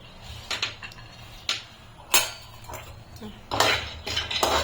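Almonds drop into a pan over a medium flame while dry fruit ladoos are being made, giving several separate clinking, rattling bursts with short pauses between them, close up and fairly quiet.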